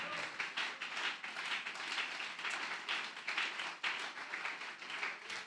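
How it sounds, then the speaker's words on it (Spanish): A church congregation claps during a Spanish-language sermon, a quiet, distant patter of many hands with an uneven rhythm that continues steadily, with no voices over it. "Dele ese aplauso al Señor."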